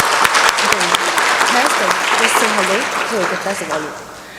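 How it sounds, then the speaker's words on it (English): A ceremony audience applauds in a large hall for a teacher from Singapore. The clapping is steady and dense throughout, with a voice speaking over it, and it thins slightly toward the end. "Let's give a big round of applause to Miss Penny Chong from Singapore."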